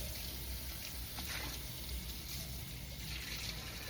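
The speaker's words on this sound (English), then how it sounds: "you're gonna scrub it down and rinse it" Running sink water pours steadily while a dish is rinsed, a continuous close hiss of tap flow with faint splashy shifts as the dish moves under the stream, no voices.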